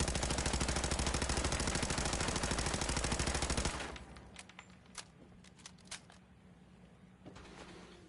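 Automatic gunfire from a gun emptying its whole magazine in Fallout 4, a dense rapid burst lasting several seconds that cuts off abruptly, followed by a few scattered clicks and clinks.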